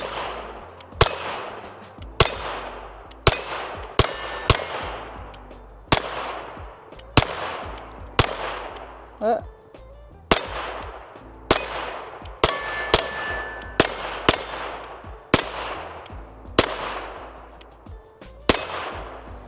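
Rapid .22 rimfire shots from a Smith & Wesson M&P 22X pistol ringing off steel targets outdoors, about twenty sharp cracks each followed by a metallic clang, in quick irregular bursts with no talking.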